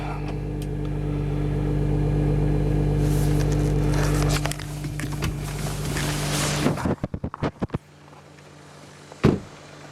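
Audi Q5/Q7 V6 TDI diesel engine idling after a cold start at -10°F with no block heater, a steady low rumble with wind noise, then fading as a door shuts and a thump follows.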